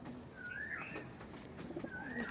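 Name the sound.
Andhra pigeons cooing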